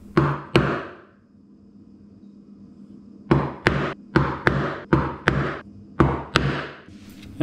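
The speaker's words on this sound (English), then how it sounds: "I do 3 passes with the chisel." Sharp chisel strikes cutting shallow joinery into wood for display shelves: two close knocks, a pause, then a steady run of about nine crisp, loud mallet-driven hits at a quick even rhythm.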